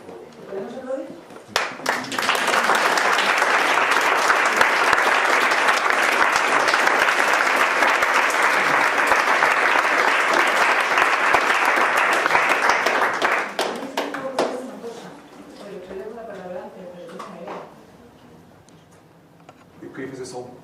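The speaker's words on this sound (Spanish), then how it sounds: "¿Podemos aplaudir?" Sustained audience applause at a Portuguese-language talk about designing José Saramago's books, building quickly and holding dense clapping for about ten seconds before fading out, with talk before and after.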